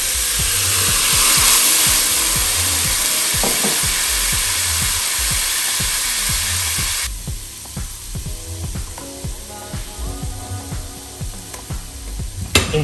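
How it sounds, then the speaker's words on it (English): A hot pan deglazed with wine gives a loud, broadband sizzle that fills the first seven seconds, then drops to a quieter crackling hiss with scraping and clinks from utensils. "the first thing to do is just to deglaze the pan"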